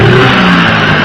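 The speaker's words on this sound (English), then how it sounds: "This is a video for a 1986 Tohatsu 18-horse outboard. Starts right up," A 1986 Tohatsu 18-horsepower outboard motor revs loud and close, a brief steady mid-pitched engine roar with no pauses.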